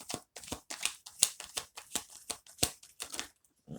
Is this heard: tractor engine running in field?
no